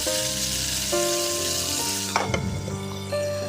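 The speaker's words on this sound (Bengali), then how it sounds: "আমি ট্যাংরা মাছটি ভাজে লিয়াম, যেমন একটু উল্টায় পাল্টায় দিতেছি, এটিরও একদম হালকা হালকা করে ভাজাম।" Small tangra fish fry in a pan with a little oil, giving a steady, close hiss and crackle with a few sharper spatters and light clinks as the pieces are turned.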